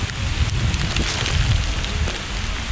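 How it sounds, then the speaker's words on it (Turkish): Steady rain with gusting wind buffeting the microphone at a tent camp at Uçmakdere, a continuous low rumble and hiss throughout with no voices. "Evet, yağmur var, rüzgar var."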